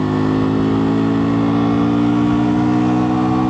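A cruiser motorcycle engine pulls hard at full throttle in third gear, a loud, steady, rising drone with strong low harmonics that holds without a break for several seconds.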